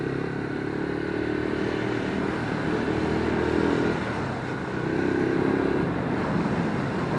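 A Lifan KP Mini 150 motorcycle cruises along at steady speed, its engine a continuous droning hum mixed with wind rush and road noise, swelling slightly midway, heard close from the rider's position without talk.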